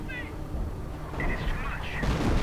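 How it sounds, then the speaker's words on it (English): Nebelwerfer rocket artillery firing during a 2v2 video game match, heard as a few muffled booming bursts against a steady battle backdrop, moderately loud rather than close. "More artillery firing away. Looks like one Nebelwerfer has already found himself counter-batteried."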